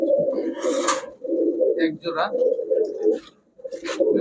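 Belgian blood-line racer pigeons coo in a low, throaty run under someone speaking close by, with brief higher chirps breaking through now and then.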